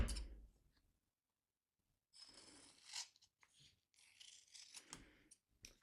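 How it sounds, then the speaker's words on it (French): Scissors snip through a strip of face tape, a single crunchy cut at the start, then a silent pause and a longer stretch of rasping, chopping cuts and handling close to the microphone. "Et je recoupe au milieu."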